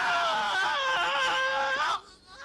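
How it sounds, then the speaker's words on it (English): The Wilhelm scream, a stock film sound effect: one loud, high, wavering male yell that holds for about two seconds and then cuts off sharply, with no talking over it. "So that or a Willem scream,"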